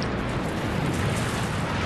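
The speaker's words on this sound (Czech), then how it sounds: "Síla exploze rozbije všechna okna v okruhu 3 bloků." A bomb explosion sound effect in a documentary reenactment of an embassy attack, heard as a loud, dense, continuous roaring blast rumble filling the whole moment with no speech.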